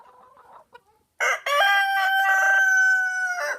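Backyard chickens on a small micro farm cluck softly, then a rooster crows loudly and close by in one long sustained call lasting about two seconds.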